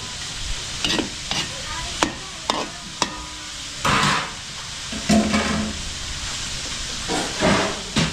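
Chicken innards, gizzards and eggs being stirred in a cooking pan, with repeated scraping knocks of the utensil against the pan over a constant sizzle and hiss of frying, close and clear, with no speech.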